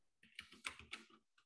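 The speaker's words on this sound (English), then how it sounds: "somebody's got a loud clicky keyboard" Fast, crisp clacking of a mechanical keyboard being typed on, a short burst of keystrokes, faint and slightly distant.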